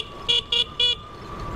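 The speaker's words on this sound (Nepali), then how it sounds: "चाहिँ किन यो बाइकको हर्न सुन है" A motorcycle horn sounds three short, shrill beeps in quick succession, close and loud over a faint background engine hum.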